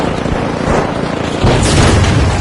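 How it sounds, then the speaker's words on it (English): A frag grenade blast in the game The Finals: a dense, roaring boom that swells about halfway through with heavy low rumble and broadband crackle, loud and sustained among chaotic match noise. "Frag grenade out!"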